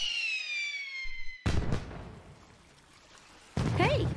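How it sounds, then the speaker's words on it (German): Fireworks in the adventure video game The Secret of Monkey Island, two sharp bursts that crackle and fade, the first following a falling whistle, with game music between. "Ach, Feuerwerk."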